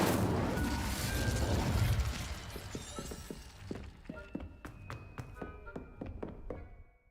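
A fire spell cast with Incendio in Hogwarts Legacy: a loud, rushing burst of flame for about two seconds, then fading into scattered crackles and sharp taps.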